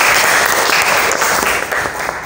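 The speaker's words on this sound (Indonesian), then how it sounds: "Tepuk tangan buat semuanya." A classroom of students claps together in loud, dense applause that holds steady for about two seconds before easing slightly.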